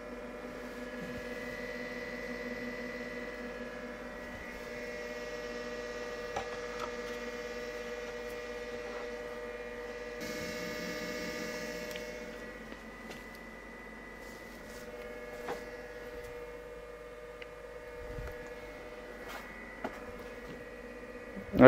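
An ALLPOWERS S2000 Pro portable power station runs its cooling fan, a steady whirring hum with tonal whine layered on top, close and fairly quiet, shifting slightly in pitch and level as it continues.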